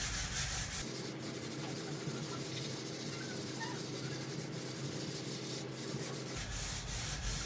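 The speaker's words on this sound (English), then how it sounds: "Little 220 grit sandpaper. We'll just kind of lightly sand the top of this." Light sanding of a wooden tabletop with 220 grit sandpaper before varnishing, a steady close rasping rub that runs continuously for several seconds with no talk.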